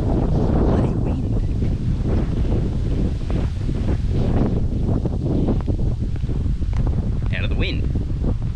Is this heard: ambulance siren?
no